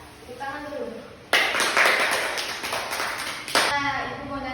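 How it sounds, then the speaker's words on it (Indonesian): Students clap together in a classroom during an Indonesian practice teaching lesson, a sharp burst of applause that starts abruptly and ends suddenly, with the teacher's voice heard briefly before and after it. "Tepuk tangan dulu."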